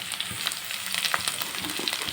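Green chillies and chopped onions fry in a pan, giving a steady, close hiss of sizzling oil with faint crackles and small stirring knocks.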